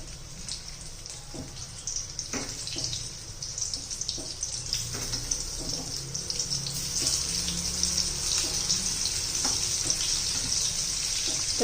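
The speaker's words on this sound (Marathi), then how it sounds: "आता तेल आपलं गरम झालेलं आहे. त्याच्यामध्ये अशी कारली ठेवून घ्यायची." Stuffed bitter gourds (karela) coated in besan masala sizzle in hot oil in a pan, a steady crackling hiss that grows slightly louder and more intense, with no talking.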